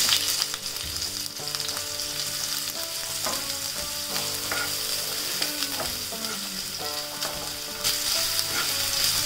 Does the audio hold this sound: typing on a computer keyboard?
no